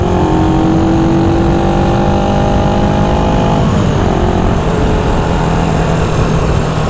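A 1974 Honda CB360 motorcycle accelerates hard, its loud, steady engine note climbing in pitch, dropping at a gear change, then climbing again, with constant wind rush throughout and no talking.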